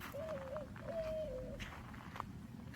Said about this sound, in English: Birdsong drifted overhead, constant and layered, like the campground had its own soundtrack.